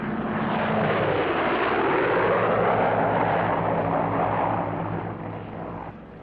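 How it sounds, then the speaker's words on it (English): A carrier plane approaching the deck and waving off because of a foul deck, its propeller engine droning loud and close, swelling as it passes overhead and then fading slightly as it goes around again. "The approaching plane will take a wave off because of a foul deck."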